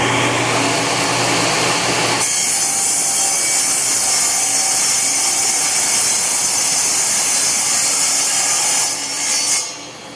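A power saw cuts 18 inches into wood, starting with a short lower run before the blade bites in and holds a loud, steady high-pitched whine for several seconds, then tapers off as the cut finishes.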